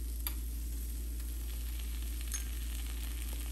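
Steady, fairly quiet sizzle of oil on a tomato dosa frying in a pan, with a low hum underneath and occasional faint crackles.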